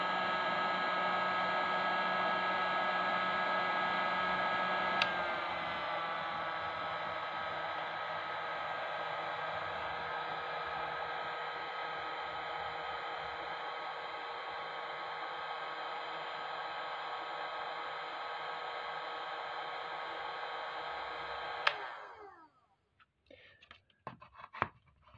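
A Kalibr TP-2100 heat gun blows a steady, loud rush of air with a high whine, running continuously and then cutting off, winding down near the end.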